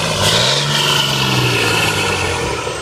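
A 2003 Dodge Ram pickup truck's engine revs under the throttle, a loud, steady drone whose pitch swells and then eases slightly, heard close with no talking.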